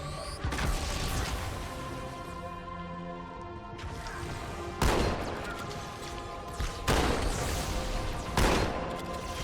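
Shotgun blasts in Halo 2 Anniversary, several loud booming shots spaced a couple of seconds apart over continuous game noise and music.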